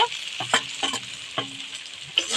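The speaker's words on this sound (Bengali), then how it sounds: "আমি এবার আলুগুলো দিয়ে দেব" Potatoes tipped into spices frying in a pan, a burst of crackling sizzle with several distinct stirring scrapes in quick succession, close and clear, no voices.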